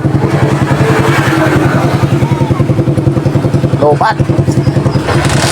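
Suzuki Shooter 115 FI motorcycle engine running at a fast, high idle just after starting, a steady close-up pulsing putter with clattery mechanical tapping, someone speaking briefly over it.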